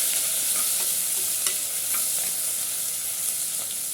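Finely chopped onions fry in hot oil for fenugreek rice, giving a steady, close, dense sizzle with faint crackles and occasional stirring scrapes throughout, no voices.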